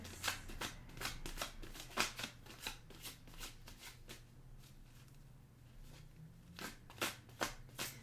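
Tarot cards are riffled and shuffled close by in a quiet room, a run of quick papery flutters in bursts, then a lull of soft handling before more crisp riffles.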